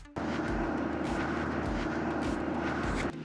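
Small propeller plane droning steadily at close range, a continuous engine hum with a slow pulsing rhythm that cuts off near the end, arriving at La Gomera on a sunny day.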